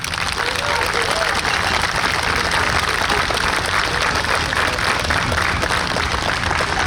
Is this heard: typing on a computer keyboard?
no